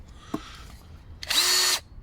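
An old, worn cordless drill gives a faint click, then spins up in a single loud half-second whir and stops abruptly, with no talk.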